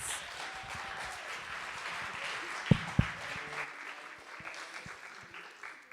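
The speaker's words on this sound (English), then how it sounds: "How about another round of applause for all of our panelists?" Conference attendees applaud the panelists at a closing session, a moderate spread of clapping with a couple of sharp knocks midway and a murmur of voices as it fades.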